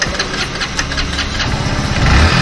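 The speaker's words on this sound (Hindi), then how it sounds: "पहले बाइक में सेल्फ लगा लेते हैं और देखते हैं इसकी बाइक की जो प्रॉब्लम थी वो सॉल्व हो या नहीं" Hero Splendor Plus BS6 FI fuel-injected motorcycle being self-started after a current fault, its engine catching and running with a steady close mechanical idle, rising slightly louder toward the end.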